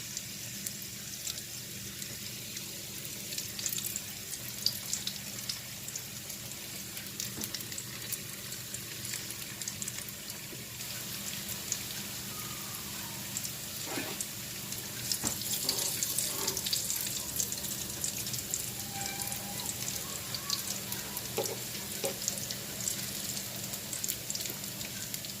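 Meat-filled pastels frying in hot oil give off a steady, close crackling sizzle with scattered sharper pops, heard alone without any talking.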